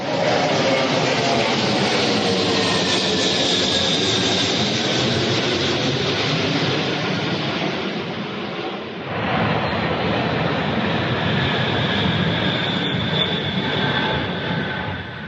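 Russian cargo plane flying low over houses, a loud, sustained engine roar that stays close and heavy throughout, with a brief dip midway before the drone resumes at full strength, no voices present.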